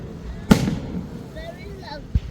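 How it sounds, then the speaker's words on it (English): A firework bursts at a Vancouver fireworks show with one sharp bang and then a fainter second pop, heard from a distance among crowd noise and scattered voices. "Fireworks."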